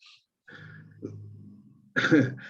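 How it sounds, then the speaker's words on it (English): A throaty cough bursts out near the mic after a stretch of low murmuring, followed by a short rough exhale. "I see you coughing, brother. You all right?"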